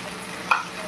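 Half-fried onions sizzle in a pan as chopped chilli, tomato, grated ginger and grated garlic are added, with a brief close stirring scrape over steady frying hiss.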